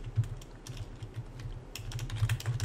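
Fast, irregular clicking of keys on a computer keyboard, close and fairly loud, with a low steady hum underneath and no talking.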